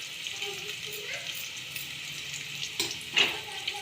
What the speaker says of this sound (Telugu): ఫస్ట్ ఉల్లిగడ్డలు అయితే బాగా ఎర్రగా గోలాలి